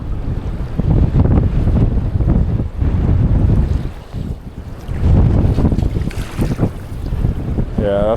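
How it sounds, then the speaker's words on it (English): Gusty wind buffets the microphone on a boat out on a bay during pike fly fishing, loud rushing surges that swell and ease in waves, with faint water sounds underneath. "that wind's going to be blowing straight on the bay as well"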